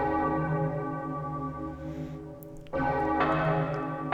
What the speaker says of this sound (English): Ask not for whom the bell tolls, it tolls for thee.